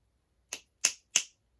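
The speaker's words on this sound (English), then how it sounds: "Can you snap your fingers?" Three crisp finger snaps, evenly spaced and close by, each a sharp bright crack with a quick decay, alone against near silence.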